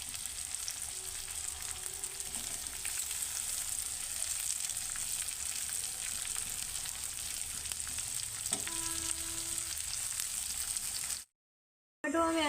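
Onions sizzle steadily as they fry in a pan in a home kitchen, a continuous close crackle that runs throughout before cutting off briefly near the end.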